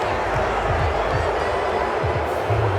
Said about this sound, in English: Some boos coming down right now from this home crowd after that call